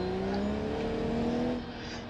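A car engine in BeamNG.drive hums steadily at moderate volume, its pitch sliding slightly before the revs drop off near the end.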